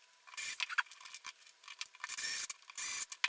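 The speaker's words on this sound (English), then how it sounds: "we start by screwing this onto the left side of the rear plate, and this is all 3/8 machine screws" Metal 3/8 machine screws being driven into a rear plate during assembly, giving close, faint scraping and rasping bursts in short irregular runs.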